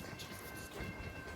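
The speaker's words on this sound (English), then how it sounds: "It's an auto rack train." An auto rack freight train rolls past at Folkston, Georgia, with a close, continuous rumble and rattle of rail cars and faint wheel clatter.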